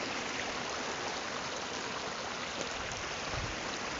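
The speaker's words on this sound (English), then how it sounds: "Snow runoff." A spring snow-runoff stream beside a muddy early-spring hiking trail in Pennsylvania rushes steadily, a continuous close wash of flowing water with no talk.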